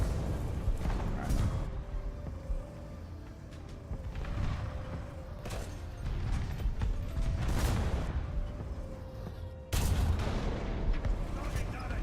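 Panzer 2000 artillery in a video game booms in several heavy, spaced blasts with mechanical creaks between them, loud and close, the strongest shot near the end, with background voices faintly under it.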